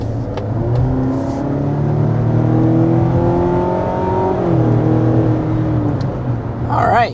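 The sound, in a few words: 2025 Mazda CX-70 PHEV hard acceleration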